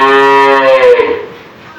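A single loud, close moo from a dairy cow at a cattle farm in Dinajpur, Bangladesh, a drawn-out tonal call lasting about a second before fading into quiet.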